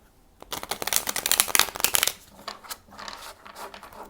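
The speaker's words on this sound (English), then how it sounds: "we'll do one last shuffle" Tarot cards riffle and shuffle rapidly up close, a dense crisp flurry of flicking that peaks midway, then lighter shuffling taps toward the end.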